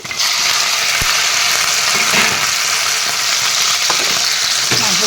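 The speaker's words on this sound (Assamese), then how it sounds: "মাংসখিনি দি এনেদৰে তল ওপৰ কৰি লৰাই দি দিম" Chicken meat and browned onions sizzle loudly and steadily in hot oil in a pan, while a utensil stirs and turns them with occasional scraping clacks. No voices are heard.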